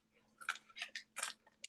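Someone chews thin, wavy, crunchy dried arame seaweed close to the mic, with several sharp crisp crunches in an irregular rhythm over near silence.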